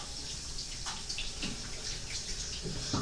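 Tap water runs into a bathroom sink for face washing, a steady close hiss and splash with a few brief splashy bursts as hands move through the stream.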